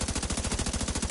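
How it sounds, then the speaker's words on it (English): Rapid, loud machine-gun fire in a video game, a dense unbroken burst of rattling shots hitting the player from several directions. "Oh, I'm getting shot from all ends, aren't I?"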